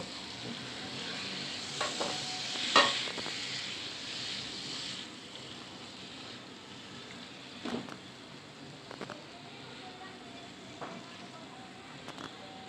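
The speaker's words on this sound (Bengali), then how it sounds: "ডাটাটা কিছুক্ষণ কষিয়ে নেব" Vegetable stems stir-fried in spiced oil for a Bengali fish curry, a steady sizzle with occasional scraping strokes of a spatula against the pan, close and fairly loud.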